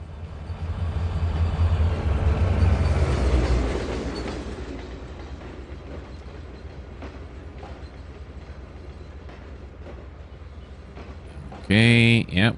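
A train rolling in the simulator Trainz 2022, its low rumble swelling to a peak around three seconds then easing into a steady track drone, with a sharp tonal horn or squeal blast at the very end.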